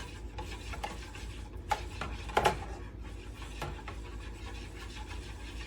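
A whisk stirs and scrapes steadily through an egg and sauce mixture for a French gratinéed fish dish, adding sauce bit by bit, with a couple of louder clinks against the bowl midway; no talking.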